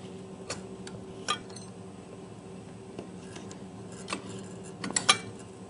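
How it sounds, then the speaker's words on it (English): A spatula fills ice cream pints from a machine's discharge chute, making faint, sparse clicks and light scrapes of metal against containers over a low steady machine hum, with no talk. "And I'll use my spatula, but you can fill pints from here quite nicely with this discharge chute."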